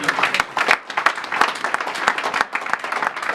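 A church congregation bursts into dense, lively applause with rapid overlapping claps, loud and close, with a faint voice mixed in.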